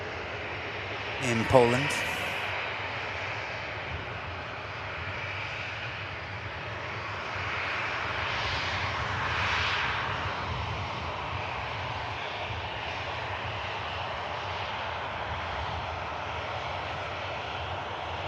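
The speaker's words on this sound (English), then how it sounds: "Aircraft arriving in from Warsaw" An airliner arriving at Manchester Airport from Warsaw, its engines a steady, distant broadband roar that swells slightly midway, with a brief voice speaking near the start.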